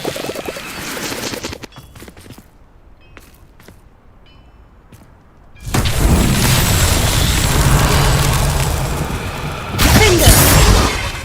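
A Confringo spell blast in the video game Hogwarts Legacy erupts as a loud, sustained roaring explosion after a quieter stretch of scattered clicks and taps, with a second surge of rumbling noise near the end.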